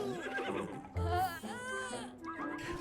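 A horse in The Sims 4 whinnies in a short, bright neigh that rises and falls, heard under and between continuous talking.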